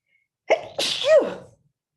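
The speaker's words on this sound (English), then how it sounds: "I'm gonna sneeze, excuse me." A single sneeze with a sharp sharp intake and explosive burst, close and loud, lasting about a second in otherwise quiet surroundings.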